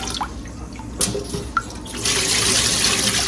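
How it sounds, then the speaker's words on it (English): Rice rinsed in water at a kitchen sink, a few light splashes and drips, then a steady close rush of running tap water filling the bowl. "I wash it like 3 times until like the water gets lighter."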